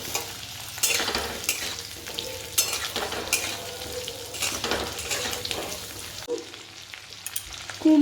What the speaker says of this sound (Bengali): প্রথমে আলুগুলোকে ভাজা হতে দেব।